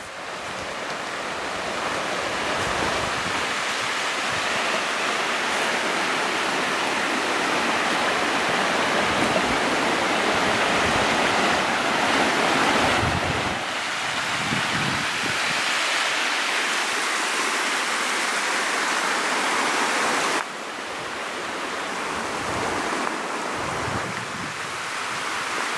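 A river rushes and splashes at a fly-fishing spot, a loud continuous wash of flowing water with slight surges and some wind buffeting the microphone.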